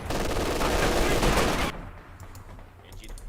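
Sustained automatic gunfire rakes an emplacement in Company of Heroes 2, a dense loud burst of rapid shots that cuts off abruptly, leaving faint scattered battle noise.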